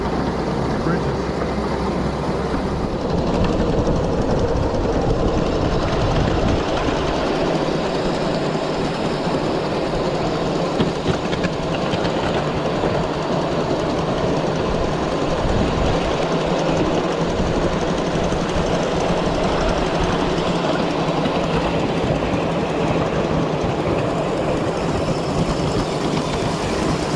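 A live steam miniature train runs steadily along its track through a tunnel, giving a continuous rumble and clatter close by while someone talks over it.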